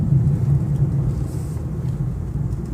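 A 2015 Infiniti Q50 driving through corners, heard as a low, steady road and engine rumble from inside the car, loud and continuous with no voices over it.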